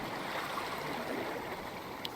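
Water in a Minecraft-like video game: a soft, steady rushing and gurgling like a stream, faint and continuous, with no voices over it.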